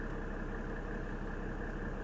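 A 1997 Mercedes E300 diesel with 241,861 miles idles steadily and evenly up close, a low continuous rumble with no revving, alone with no voices.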